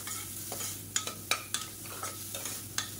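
Carrots sauté in a pan with a quiet background sizzle, broken by regular soft scraping and clacking strokes of a stirring spoon, close and faint with no talking.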